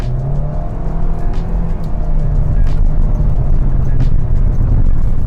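A Toyota Veloz with a CVT accelerating on a highway, a steady engine drone holding one low tone with road and wind roar around it, loud and continuous from inside the cabin.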